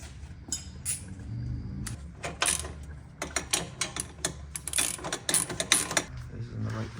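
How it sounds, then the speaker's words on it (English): A ratchet rapidly clicks while tightening the bolts of a catback exhaust on a Honda Element. Close, busy bursts of ratcheting come in quick strokes with brief pauses, and low talk can be heard faintly underneath. "So now we're gonna proceed with tightening everything up front to back."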